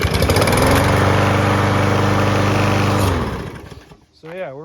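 A small lawn mower engine running on isopropyl alcohol roars loud and steady for about three seconds, then dies away, and a voice speaks briefly at the end.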